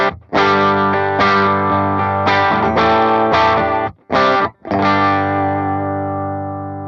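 Loud, gritty electric guitar through a JHS Superbolt v2 distortion pedal strums sustained chords, with a few abrupt stops between them, the last chord ringing and slowly fading.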